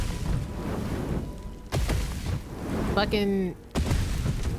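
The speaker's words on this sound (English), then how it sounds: "Because you already set off all the explosions" Explosions in the Baldur's Gate 3 video game sound as deep booms and rumbling blasts with bursts of crackle, heard under a player talking and swearing.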